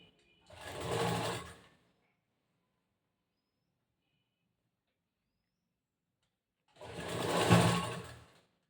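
Sewing machine stitching the front panel of a cross-cut blouse, heard in two separate bursts of about a second each, at the start and near the end, with quiet between.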